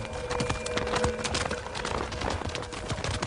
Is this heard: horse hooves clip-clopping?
yes